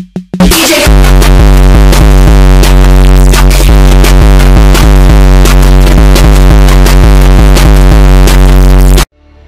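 A sped-up recording of solar vibrations: a loud, dense drone of stacked tones pulses in a steady rhythmic pattern, with a sharp burst at the start and an abrupt cutoff at the end.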